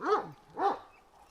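Two short, close barks from a Kangal dog about half a second apart, followed by a faint trailing whine.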